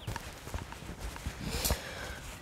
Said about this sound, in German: Ja, aber jetzt sind da halt Pferde, ne?